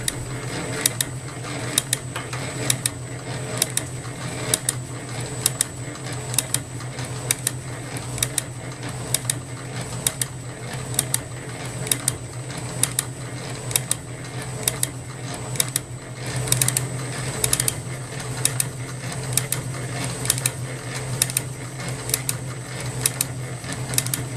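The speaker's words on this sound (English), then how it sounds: "And then I put this in the shaper." A metal shaper cuts a steel part in a home machine shop, its ram stroking back and forth in a steady, regular rhythm of sharp clicks over a constant mechanical hum, close and moderately loud.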